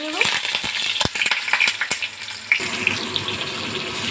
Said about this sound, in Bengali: আমার এই দেখো কড়াই তেল গরম হয়ে গেছে। তো আমি আস্তে আস্তে পটলগুলো ভেজে নেব।